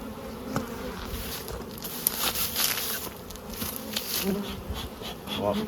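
Honeybees buzz densely and close around beehives being moved and strapped for travel, a constant droning swarm with light knocks and handling sounds mixed in.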